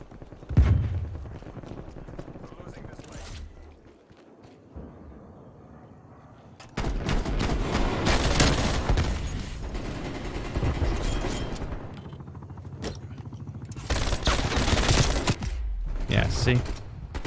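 Rapid video game gunfire empties an ammo clip in long, dense sustained bursts, loud and continuous with short pauses, while a person talks between and over the shooting.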